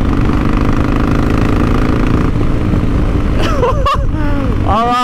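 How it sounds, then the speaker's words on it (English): A Harley-Davidson Sportster engine idles close and loud in a steady low rumble that continues throughout, with brief higher chirping sounds near the end. "Oh, this is awesome! The engine sounds amazing!"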